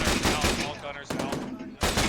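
A Mark 19 grenade launcher fires in ArmA 3 during a military engagement at a bridge and hilltop, loud rapid bursts of heavy automatic fire in two dense volleys with a brief gap, voices faintly mixed in.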